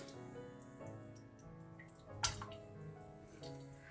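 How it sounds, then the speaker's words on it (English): A small, steady stream of water runs over a straight razor hone as the blade is stroked across it with light pressure, giving a soft continuous trickle with faint scraping. "Got a small stream of water going there"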